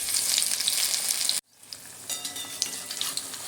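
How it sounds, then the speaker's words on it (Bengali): Pumpkin flower pakoras frying in hot oil, a dense, steady crackling sizzle that cuts out abruptly, then resumes slightly softer and keeps bubbling close by, with no voices. "আবারও আমি একই রকমভাবে এই পকোড়াগুলো ভেজে নেব।"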